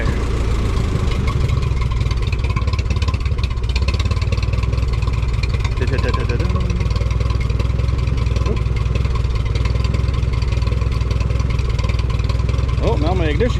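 A running tractor engine, steady and close, with a low continuous rumble and a mechanical chatter that never lets up, while someone speaks over it.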